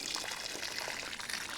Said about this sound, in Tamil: ஓகே, தண்ணி தேவையான அளவு விடலாம்.